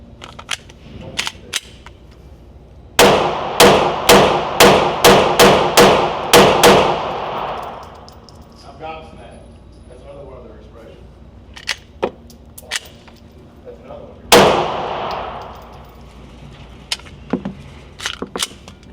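An HK VP9 pistol with an upgraded trigger fires loud, sharp shots nearby. A few shots open the clip, then a rapid string of about eight, then scattered single shots with clicks and handling noise between them.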